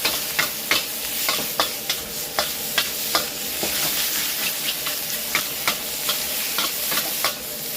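Stir-frying Thai holy basil (kaphrao) in a hot pan over a strong flame, with a steady sizzle and regular scraping strokes of the spatula repeating about every half second, up close and loud, with no talking.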